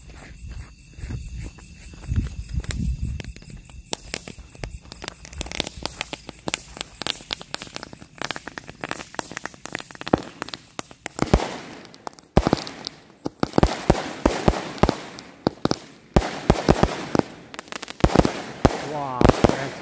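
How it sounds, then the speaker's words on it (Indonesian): Rapid crackling pops and bangs of Roman candle fireworks go off in a dense, irregular series, building into a steady barrage of loud bursts outdoors. "Selanjutnya kita nyalain mercon Roman Candle Gladiator."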